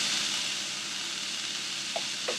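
Ridge gourd chutney cooking slowly in a pan over a low flame gives off a steady, soft sizzle and hiss, with a couple of faint pops near the end and no talking.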